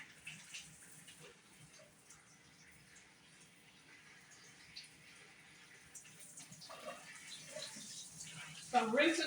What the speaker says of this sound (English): So I'm rinsing off the corn. Get that glaze off, that ice glaze.